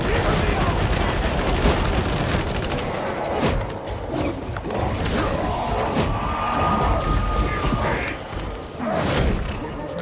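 Sustained automatic suppressing gunfire from a Skitarii build in Darktide, a dense, loud fusillade of rapid shots and thumping impacts running nearly the whole span, with mechanical clatter and game effects layered in.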